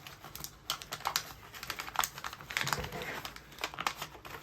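Thin aluminium foil loaf pan being folded and crushed by hand, giving close, irregular crinkling and crackling bursts across the whole stretch, with no talk.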